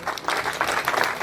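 Guests applauding at a Rwandan wedding ceremony during the dowry negotiations, a short, lively burst of clapping from a close crowd with uneven rhythmic surges.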